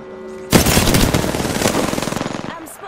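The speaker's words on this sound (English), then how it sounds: "I am taking fire, friends. I'm getting shot at." Dense, rapid automatic gunfire from a battle-royale style video game erupts after a brief quiet moment and rattles on steadily for about two seconds, loud and close, with a faint game cue near the end.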